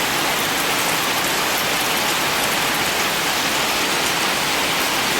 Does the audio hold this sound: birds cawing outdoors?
no